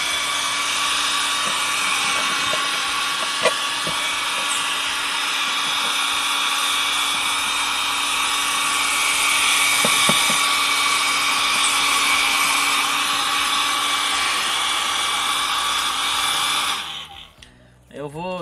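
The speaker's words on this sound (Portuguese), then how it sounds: "eu vou estar utilizando um secador aqui que sopra também" A hair dryer blows air steadily to clean out a Cadence stand mixer under repair, a continuous loud whir holding for about seventeen seconds before it cuts off near the end.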